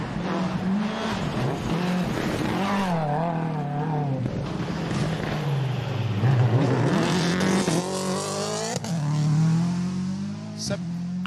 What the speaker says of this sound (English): the car tipped in a little more gingerly, but then hard on the throttle at the exit